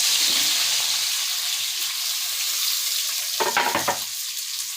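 Onions sautéing in a hot oily pan give a steady close sizzle and hiss, broken near the end by a short burst of stirring scrapes.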